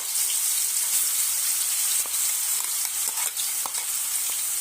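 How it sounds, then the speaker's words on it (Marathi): Besan paste fries in hot oil for patvadi, giving a steady, close, hissing sizzle throughout with faint stirring clicks and no talking. "आपलं तेल आता व्यवस्थित गरम झालं असेल आपण ह्यात हे पेस्ट घालून व्यवस्थित परतून घेऊ"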